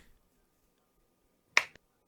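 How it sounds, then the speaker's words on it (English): A single sharp hand clap, crisp and close, followed by a faint second tap, in otherwise near silence. "Do a clap sync."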